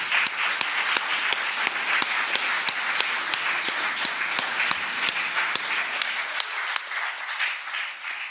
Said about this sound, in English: let's have a big applause for him